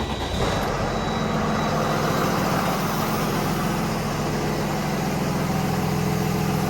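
A Freightliner M2 truck engine turns over and settles into a steady diesel idle, a loud continuous low rumble with a brief high beep near the start.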